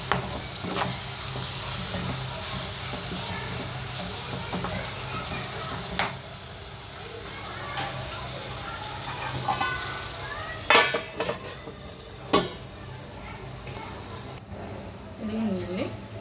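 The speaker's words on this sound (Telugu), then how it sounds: "ధనియాలు, లవంగాలు, చెక్క. ఆయిల్లో బాగా ఫ్రై అవ్వాలండి ఇది మసాలా" Coriander seeds, cloves and cinnamon sizzle in oil under steady frying noise, with occasional sharp clinks of a spoon against the pan and a person talking over it.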